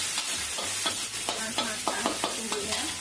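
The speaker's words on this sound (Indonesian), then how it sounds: "Ini kita tumis bumbu halus." Ground spice paste sautéing in a pan, with a steady sizzle and a spatula stirring and scraping in a loose, repeated rhythm close up.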